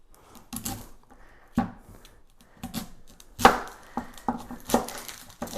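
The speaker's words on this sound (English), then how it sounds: "And we're going to get our onion cut." Knife cutting an onion on a board in a home kitchen, a scattered series of sharp, close chops with short pauses between them.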